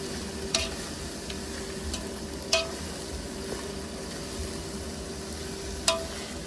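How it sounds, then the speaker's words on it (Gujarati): Brinjal mash for baingan bharta mixed in a pan, with a steady soft sizzle and a few sharp spoon taps against the pan spaced a second or two apart. "હવે આપણે આને સારી રીતે મિક્સ કરી લઈશું"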